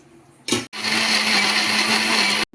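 A mixer grinder grinding peanuts, sesame seeds and coconut powder whirs at high speed in a loud, steady grinding drone after a brief first pulse, then cuts off.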